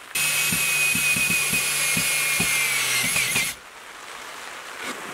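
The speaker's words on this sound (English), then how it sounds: "So I'm just drilling out some little holes and I'm putting these eye bolts in" A power drill bores small holes in wooden 2x4 boards for eye bolts to build a garden trellis, a loud steady high whine running for about three and a half seconds with rhythmic low knocks, then cutting off to quiet outdoor background.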